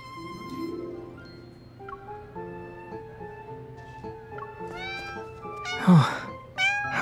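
Several cats meow in turn in the video game Love & DeepSpace, some drawn-out and others short and sharp, over soft background music, with a louder cry near the end.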